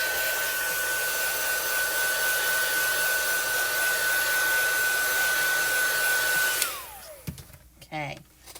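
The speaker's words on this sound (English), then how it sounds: "I'm just going to take a heat gun just to set it." A heat gun blows steadily with a close, loud whirring hum while drying stamped ink, then switches off and winds down, leaving a few soft handling sounds.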